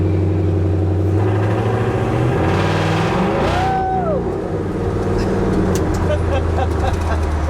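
A bagged Ford F100 pickup with a swapped Coyote V8 engine drones loudly while driving, the engine note rising briefly as the throttle is pressed, then settling into a steady close cabin rumble.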